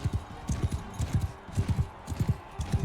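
Horse hooves clip-clop in a steady galloping rhythm during a Mount and Blade Bannerlord battle, close and fairly loud, with quick repeating thuds throughout.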